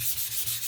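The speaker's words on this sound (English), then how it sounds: "So just give them a sand again" Sandpaper rubs over painted wooden kitchen spice signs in quick back-and-forth strokes, a close, steady scratchy hiss that swells and dips with each pass.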